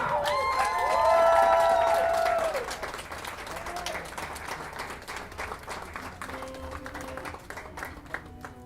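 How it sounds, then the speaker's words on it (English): Guests at Rovin and Ann Marie's wedding, during a ceremony with a hawan, applaud the couple with a burst of whoops and shrill cheering at the start, settling into steady crowd clapping that carries on to the end. "A round of applause for them."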